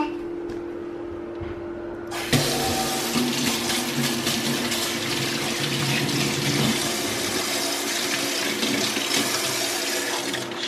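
A tap is turned on full for handwashing at a home sink, water gushing steadily and loudly after a quiet start, with faint voices in the background.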